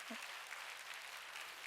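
Church congregation clapping together during a Sunday worship service, a steady, dense wash of applause filling the room for under two seconds with no voices above it.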